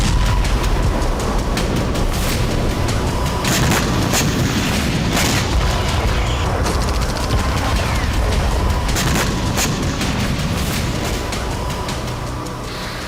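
Rocket strike by an M142 HIMARS on Russian territory: a continuous loud rumbling roar with repeated sharp booming impacts scattered throughout, heavy and sustained across the whole stretch.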